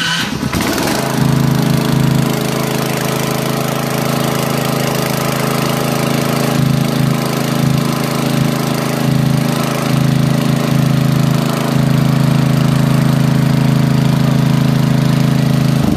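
A petrol generator converted to automatic start-stop for charging a battery bank catches within the first second, then runs in a loud, steady, close drone with a constant low hum and no voices.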